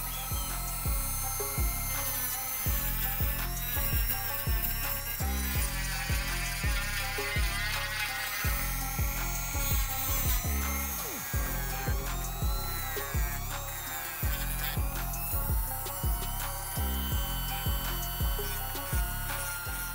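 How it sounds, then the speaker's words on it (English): A Dremel rotary tool grinds old glue off the soles of 1985 Air Jordan 1 sneakers, a continuous high whine with rapid pitch shifts and scraping bursts, loud and close with no talking. "I'm gonna be using a Dremel to remove all the old glue on the Kentuckys and all that old gunk"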